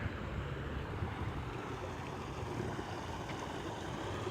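A small artificial garden waterfall fed by a hose or pump gives a steady, soft, even rush of falling water heard from nearby, with no voices.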